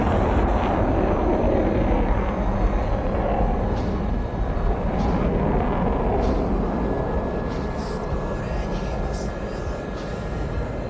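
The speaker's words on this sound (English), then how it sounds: "Listen to that jet. He's not done powering those engines up." A loud, continuous Su-27 jet engine roar from the DCS flight simulator game fills the whole stretch, steady and broad, with faint speech-like bits drifting in the background.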